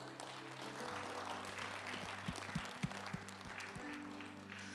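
Church congregation clapping during a service, faint scattered hand claps over a steady low hum and room noise, with a few sharper claps standing out midway.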